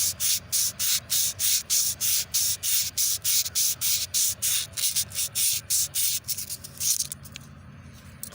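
Coarse-grit emery cloth rubbed against the camshaft of a Small Block Chevy 350 5.7 engine during a rebuild, a loud, close, rhythmic scrubbing of about twenty even back-and-forth strokes that loosen and fade near the end.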